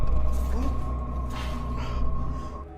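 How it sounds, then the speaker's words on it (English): A stuck door in an abandoned building being forced and kicked open, with creaking and mechanical rattling over a steady low rumble, and voices talking under it. "The door won't budge, so they call out for Mo to push from the other side."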